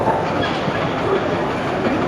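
A train at Panvel railway station rumbles steadily with a dense, continuous roar and rattle close by, and no clear talk is heard.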